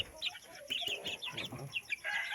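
Two-month-old free-range early-bird chicks in a backyard flock cluck and peep softly in a quick, uneven run of short calls, fairly close by, with no talk.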